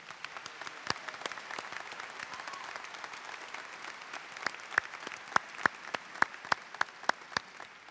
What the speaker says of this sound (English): Please acknowledge our honorary degree recipients with another round of applause